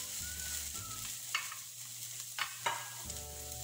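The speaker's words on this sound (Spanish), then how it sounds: "Colocamos el ajo machacado, lo sofreímos unos minutos junto con la cebolla" Crushed garlic and onion sautéing in a pan give a faint, steady sizzle with a few brief scrapes of a spoon stirring, set against a low hum and no speech.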